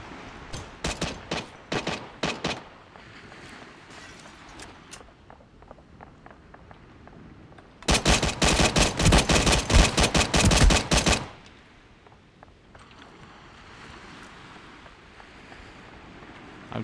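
Gunfire in the video game Ring of Elysium: scattered single shots and short bursts early, then a long, loud rapid automatic volley, followed by quieter ambient noise with faint footsteps.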